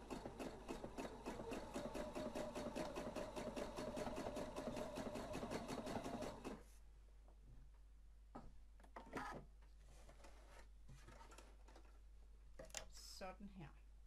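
Sewing machine stitching ribbon onto fabric, a close, rapid, even mechanical stitching rhythm for about six seconds, then stopping, leaving faint handling noises and a low background hum.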